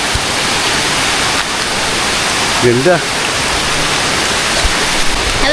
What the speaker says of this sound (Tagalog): dito po kami sa Salagsag Falls